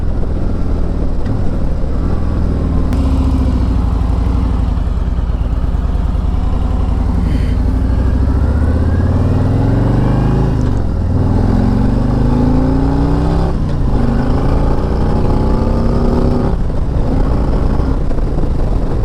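A Harley-Davidson Street Glide Special 114 motorcycle under way, its deep engine rumble rising and falling in pitch through acceleration and gear changes, loud and continuous with wind noise.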